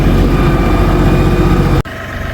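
A New Holland Workmaster compact tractor engine chugs loudly and steadily close by, with a brief dip as it changes pitch and keeps running.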